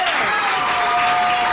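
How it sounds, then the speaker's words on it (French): Studio audience applause on a French-language TV quiz show, a dense steady patter of clapping running for the whole moment, fairly loud with a faint sustained tone underneath. "Est-ce qu'on va applaudir pour bien-aimé?"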